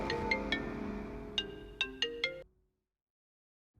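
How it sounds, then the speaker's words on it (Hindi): A phone ringtone plays in a Hindi-dubbed thriller, a short bright melodic tune with several sharp notes that stops abruptly, followed by near silence. "मैडम, आपका फोन है मैडम।"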